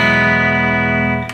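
Distorted electric guitar tone through a Hotone Ampero multi-effects unit, a loud sustained chord ringing with rich harmonics and slight wavering, fading near the end with a brief string noise.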